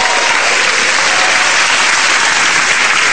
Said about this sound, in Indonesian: tepuk tangan sekali lagi untuk Ari